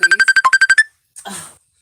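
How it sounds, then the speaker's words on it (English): A phone ringtone chirps loudly in a rapid burst of about ten evenly spaced electronic beeps, then stops, followed by a brief rustling noise. "There's phone calls."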